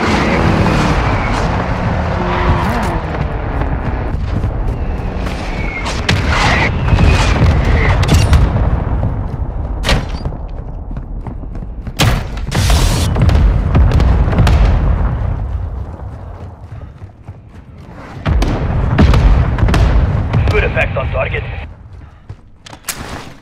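Heavy mortar strike explosions boom in a Call of Duty Modern Warfare II match, several deep blasts and rumbles rolling through the clip with sharp cracks between, while radio-style voices talk over parts of it.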